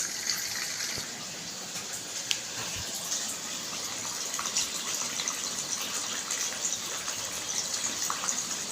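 Steady, close rush of tap water pouring into a washing machine drum, continuous and unbroken with no voices.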